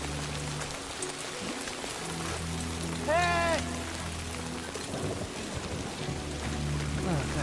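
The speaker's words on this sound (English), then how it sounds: "So it might be possible we can have non-timefall rain in places." Rain falls in the video game Death Stranding 2, a continuous dense patter under a low in-game hum, with a short vocal shout in the middle.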